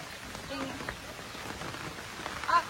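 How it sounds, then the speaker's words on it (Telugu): Sudden rain falls steadily in a light, even patter at a coffee park in Bali, heard under quiet talk. "ఇప్పుడు సడన్ గా వర్షం పడుతుంది."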